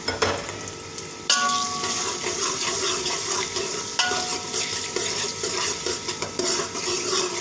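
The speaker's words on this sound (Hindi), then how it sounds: "अदरक लहसुन की पेस्ट को हम थोड़ा सा जो है वो भूनेंगे, थोड़ा सा फ्राई करेंगे" Ginger garlic paste fries and is stirred in a pan for beef keema with green chickpeas, giving a steady close sizzle with scraping spoon strokes and clinks of utensil against metal throughout.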